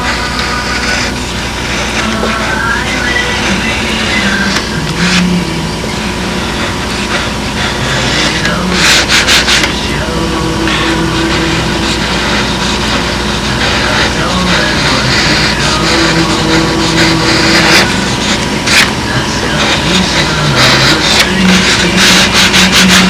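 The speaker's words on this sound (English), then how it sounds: "And then that last little bit I'll get with the sanding block." A sanding block rubs back and forth over a wooden piece, giving a loud, continuous scraping rasp with rhythmic strokes and occasional louder passes, close to the mic.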